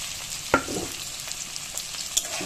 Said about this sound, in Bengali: বেগুনটা দিয়েও আমি ভালো করে এবার ভেজে নেব।